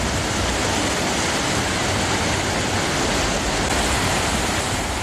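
Niagara Falls roaring in a dense, unbroken wash of rushing water that stays loud and steady throughout, with no voices.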